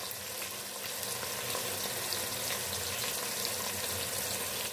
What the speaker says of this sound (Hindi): अब इसमें हम प्याज डालेंगे और हम प्याज को फ्राई कर लेंगे।